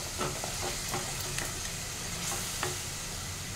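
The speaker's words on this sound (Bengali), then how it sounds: "এবার এটা আমি ভালো করে কষিয়ে নেব। এটা অনেকক্ষণ কষাতে হবে, যতক্ষণ না তেল ছেড়ে আসছে মশলা থেকে" Spice paste for a Bengali wedding-style green jackfruit and prawn curry being stir-fried in oil, a steady close sizzle with scraping stirs every half second or so, no voices.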